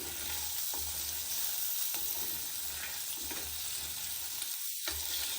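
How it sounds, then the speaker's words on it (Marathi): Soaked chickpeas frying in oil in a pan are stirred, a steady sizzle running throughout with a few soft scrapes and one brief dip near the end, heard alone up close. "झाकण काढून घेतलंय मी आता एकदा आपण हलवून घेऊ"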